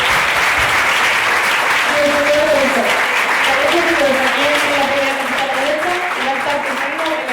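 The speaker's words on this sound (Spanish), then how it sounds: "voy a pediros un fuerte aplauso para Ana" Audience applauding for Ana, a loud, sustained, dense round of clapping from a full room, with a voice speaking briefly over it midway.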